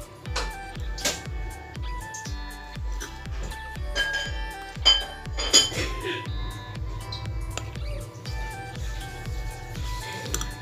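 Metal spoon scraping and clinking against a bowl while red and black icing colour is stirred for a Spiderman cake, repeated rhythmic taps and scrapes close up, with no talking.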